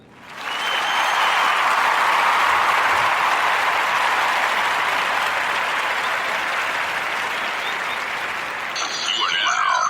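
A burst of crowd applause swells within the first second and holds as a steady, bright clapping wash, thinning slightly before a brief voice emerges at the end.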